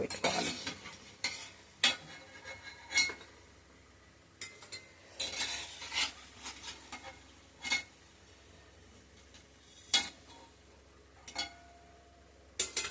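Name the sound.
lentil vadas (garelu) frying golden in oil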